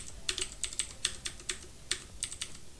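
Computer keyboard keys clack in quick, irregular taps, close and clear, about a dozen presses with short pauses between them and no voices.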